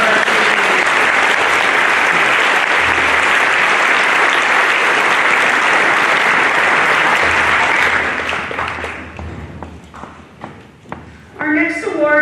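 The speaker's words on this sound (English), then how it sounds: "Please give a round of applause for our varsity." Audience applause fills a high school class day ceremony honoring varsity athletes, a loud, sustained clapping wash for about eight seconds that then thins into scattered claps and fades, with a voice starting to speak near the end.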